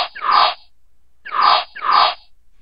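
Three lightsaber swing effects in iMovie: short whooshing swoops with a bright buzzing edge, one alone, then a pause, then two more in quick succession.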